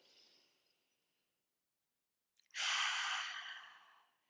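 A single deep breath during a scapula mobility drill: a faint breathy exhale, then a pause, then a louder airy breath that slowly fades, close to the mic with no talking.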